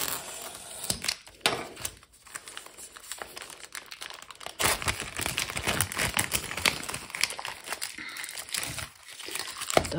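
A Stampin' Up craft kit package is opened up close, with plastic wrapping crinkling and tearing in busy irregular bursts, rustling louder toward the middle and continuing throughout without speech.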